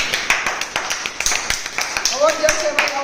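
A group claps in applause at a Gujarati felicitation gathering, sharp overlapping hand claps building into a steady, close run of applause while voices talk over it.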